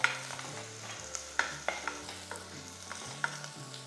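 Three green chillies fry in a pan for a vegetable curry, a soft sizzle broken by sharp scraping clicks of a spoon stirring at irregular intervals.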